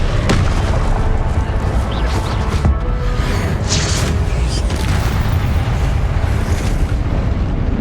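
Booming Confringo blasting-spell explosions in Hogwarts Legacy rumble loudly and continuously, with a few sharper bursts and crackles over a dense roar of game noise.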